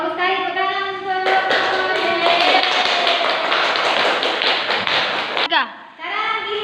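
A classroom bursts into dense, even applause for about four seconds. A teacher's voice comes just before and just after the clapping.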